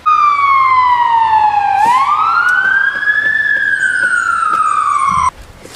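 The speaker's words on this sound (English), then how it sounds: "I've been hearing a lot of fire trucks and ambulances and police cars this morning and afternoon" A loud emergency vehicle siren wails alone, sweeping down and up in long glides over several seconds, close by during an ice storm, then cutting off abruptly near the end.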